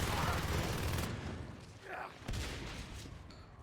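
Shotgun fire in the team shooter Natural Selection during a competitive match, heavy blasts and a dense fusillade of bangs, with a broadband roar fading and rising again, fairly quiet.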